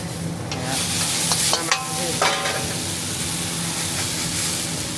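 Fried rice is stir-fried in a hot wok at a busy Chiang Mai fried-rice stall, with a steady loud sizzle and hiss and a few sharp metallic scrapes and clanks of the spatula against the pan.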